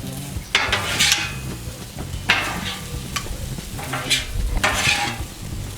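Beef stir fry with noodles sizzling on a 36-inch Blackstone griddle with a little oil, spatulas scraping and tossing in irregular bursts over a steady close frying hiss.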